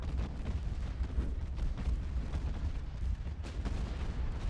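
Continuous rumbling naval battle din from Ultimate Admiral: Dreadnoughts, a torpedo strike on a ship booming amid steady low explosions and gunfire, dense and sustained with no clear pauses and no talk.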